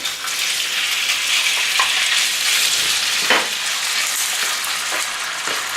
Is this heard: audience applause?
no